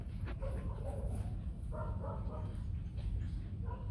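Pair of white Bắc Hà village dogs making short yips and whimpering barks, close by, over steady low rumbling background noise with some voice-like sounds.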